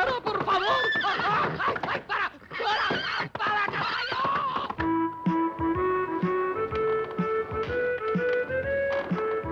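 A horse neighs and whinnies several times loudly and close by, with hoof clip-clops and cries of alarm mixed in, followed by music in an animated adventure scene.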